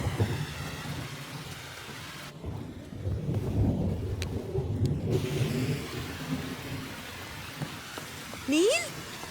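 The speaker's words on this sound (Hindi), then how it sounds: "I just love the rain." Steady rain falls with rumbles of thunder rolling through, a continuous wet hiss over low booming, while a voice speaks briefly near the end.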